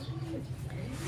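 A pastel racing pigeon coos in a low, throaty rolling murmur, close and steady through the whole short moment.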